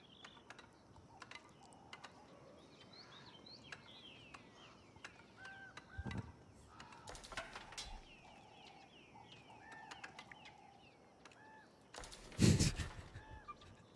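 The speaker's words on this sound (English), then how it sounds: "When there's so little going on, I can hear the crows" Crows call repeatedly in the background, a scatter of faint, distant caws beneath the quiet ambience of a real-time strategy game, with a couple of louder mechanical clunks breaking in.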